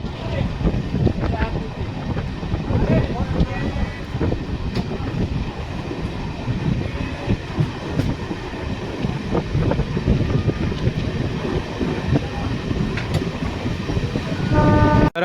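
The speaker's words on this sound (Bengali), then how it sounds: "এই মুহূর্তে এসে দাঁড়ালো জয়রামবাটি রেলওয়ে স্টেশনে" The inaugural special train pulls into Jayrambati railway station with loud rumbling wheels, clattering cars and occasional horn blasts, the noise building toward the end while a crowd talks underneath.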